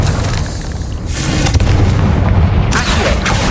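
A Confringo fire spell erupts in Hogwarts Legacy: heavy, loud booming blasts with deep rumbling low end, a sharp burst near the middle and another crack toward the end, over continuous game ambience.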